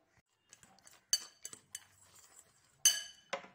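Peanuts tipped into a bowl, a scatter of quick light clinks and rattles in several bursts, close and quiet against near silence.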